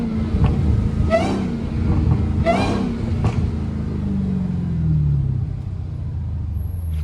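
A loud, deep Dodge Hellcat engine rumble idles steadily, with a couple of sharp revs early on before settling into a low growl.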